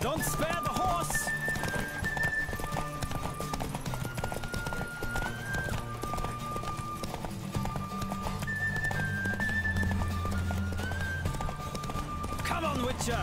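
Hooves drum at a full gallop in The Witcher 3 video game, a continuous steady beat beneath layered game music, with a neigh or two and voices talking over the ride.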